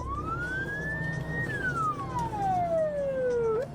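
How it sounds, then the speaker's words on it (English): A police car siren wails during a supercar chase, one long tone rising, then sliding slowly down before a quick upward flick, loud and close over a steady engine rumble. "ignoring sirens and loudspeaker commands"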